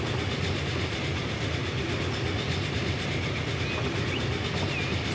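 Train running on rails in the video game Transport Fever 2, a continuous low rumble with faint rhythmic clatter of wheels, steady and fairly loud throughout with no voices.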